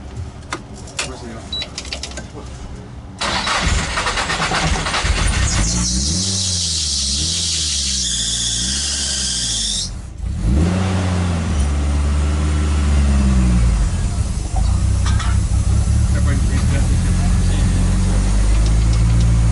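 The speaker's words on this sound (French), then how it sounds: "Il se lance bien le démarreur." A car engine cranks on the starter and then catches and runs, freshly restarted after its gearbox was reassembled. Loud and close, with a steady idle building under occasional talk.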